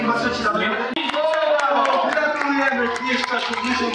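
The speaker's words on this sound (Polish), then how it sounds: "Brawa dla państwa, brawa dla syna." Applause from the audience at a charity auction for a Polish charity finale in Bielsko Podlaskie, steady clapping rising beneath a loud announcer's voice throughout.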